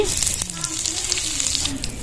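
Steady crackling sizzle of asafoetida hitting hot mustard oil in a wok, a continuous close-up hiss with light clinks, no talking.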